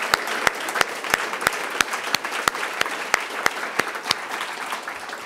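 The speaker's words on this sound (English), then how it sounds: "Give everyone a great big round of applause," Audience at a summit applauding organizers, dense continuous clapping with a few sharp, louder claps standing out at fairly regular intervals.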